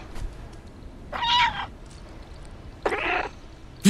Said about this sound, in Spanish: ¿Gato?